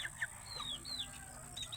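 Chickens of about two to three kilos each cluck faintly with short, high, scattered calls over a low background hum, distant and quiet with no voices.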